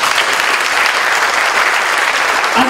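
A church congregation claps loudly and continuously for Jesus during a pastor's sermon, a dense, close wall of applause that holds steady to the end.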